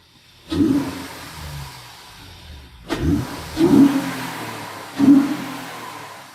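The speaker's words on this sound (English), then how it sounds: "give it a little bit of a rev" A 2010 eighth-generation Honda Accord coupe with a 3.5 V6 and manual gearbox, blipped from idle in a series of short revs: one strong rise, a pause, then three quicker throttle stabs, heard close with no talking.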